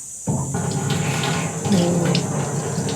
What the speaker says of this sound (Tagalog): Malakas naman yung tubig eh